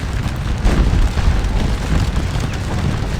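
Massed musket volleys from Napoleonic troops at Waterloo in a battle game, heard as a steady rumble of dense booming shots over about three seconds with no talking.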